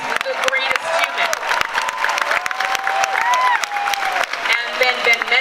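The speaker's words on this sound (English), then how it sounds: "let's applaud him, because he's the greatest human" A large Comic-Con audience in Hall H applauds, a dense continuous roar of clapping with cheers and whoops rising throughout, while a voice carries over the crowd.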